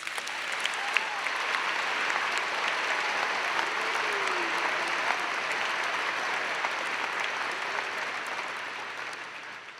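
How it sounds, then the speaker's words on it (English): A large audience at a university spring commencement ceremony applauds in a long, steady, dense round of clapping that holds at an even level throughout, with a faint murmur of voices underneath. "Can we give them one more round of applause, please?"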